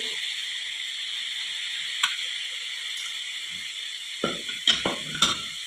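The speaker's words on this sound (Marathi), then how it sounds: "शेव कढईत पिळल्यावर लगेच हलवायची नाही एखाद मिनिटभर चांगली तळू द्यायची" Steady hissing sizzle of garlic sev dough frying in hot oil, with a few soft clinks and scrapes of a utensil near the end.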